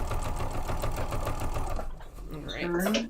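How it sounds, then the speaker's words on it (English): A sewing machine stitches a quilt in a fast, even needle rhythm close by, running for about two seconds before stopping, with people talking over and after it. "presser foot back down, and sew again"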